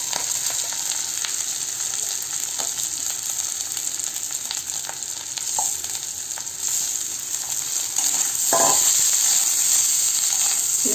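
Banana blossom sizzles and fries steadily in a pan over a gas flame, a continuous close crackle and hiss that swells slightly louder toward the end, with a few brief stirring clatters.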